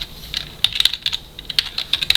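Close, crisp keystrokes tapping on a computer keyboard in short irregular bursts, entering text for a Korean word-processor exam document, with no one talking.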